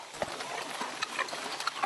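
A farm horse's hooves clip-clop in an uneven series of sharp knocks at close range in the early morning, with faint rustling and background noise between steps.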